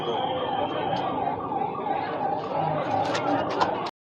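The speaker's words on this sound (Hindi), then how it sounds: "एम्बुलेंस भी आई होगी" A wailing ambulance siren rises and falls steadily over a busy background of crowd noise and chatter at a coaching-centre fire in Lucknow, then cuts off abruptly.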